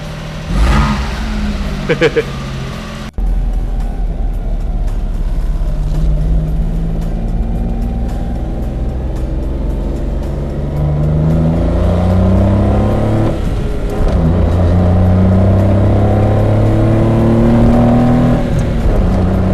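A small Honda Beat PP1 kei car engine buzzes loudly, revving in rising and falling sweeps that climb higher over time, heard up close with brief talking near the start.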